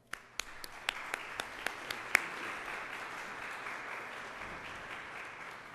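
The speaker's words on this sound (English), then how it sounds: "giving a round of applause to Mr. Kelly and his staff" A small audience at a Chicago Park District budget meeting applauds, a few distinct early claps swelling into a steady, moderately distant round of clapping that holds for several seconds.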